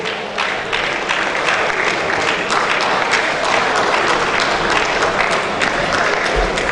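Sustained, full round of audience applause for a Nigerian comedian at a youth Scrabble championship gala and awards night, a dense, steady clatter of many hands filling the room without a break.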